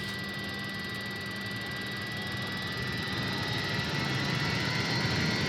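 Avro Vulcan jet engines in a flight simulator throttling up, a steady, broad, loud roar with a high whine running underneath, holding and building slightly throughout without any voices.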